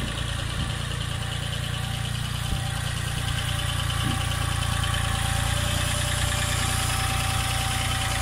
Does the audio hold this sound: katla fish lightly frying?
no